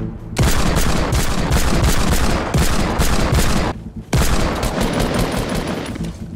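Dense, sustained automatic gunfire from a Fortnite match pounds close and loud for several seconds, breaks off briefly, then resumes just as heavily with no talking over it.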